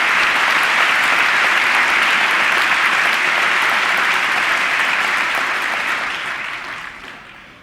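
A large audience at the 2000 State of the Union address applauds steadily, a dense loud wash of clapping that holds for several seconds and then fades out gradually.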